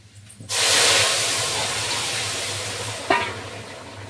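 Curry poured into a hot pan while cooking in a Sundarban home hits with a sudden loud hiss that settles into steady, dense sizzling and bubbling. A clatter comes near the end, and no voices are heard.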